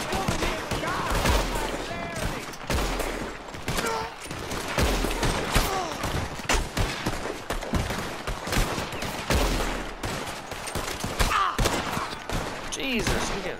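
Dense, continuous gunfire from Red Dead Redemption 2 Online, with rapid volleys of shots and thuds repeating loudly throughout, close and overlapping, with game chatter mixed in.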